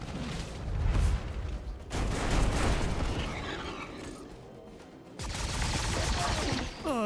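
Units firing on each other in the turn-based strategy game Earth vs Mars, with bursts of gunfire and booming artillery rolling through the whole stretch, loud and dense, easing briefly before a final volley.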